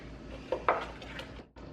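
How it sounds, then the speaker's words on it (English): A spoon stirs banana bread batter in a bowl, giving soft scraping and a few light clinks of utensil against the bowl over a low background hum. Brief and quiet, with no talking. "We're going to mix this for about 30 seconds."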